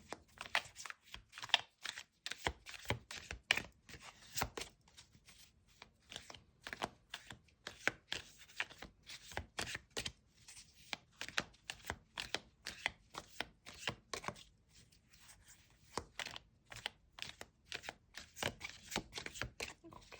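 Tarot cards being shuffled, quick riffling bursts of crisp papery flicks repeating in clusters across the whole stretch, close and fairly quiet.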